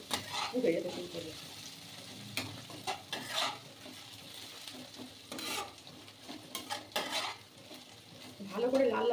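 Sliced onions fry and hiss in a pan, stirred now and then with a utensil that scrapes and clinks against the metal. Steady sizzle with bursts of stirring noise runs throughout, close and moderately loud.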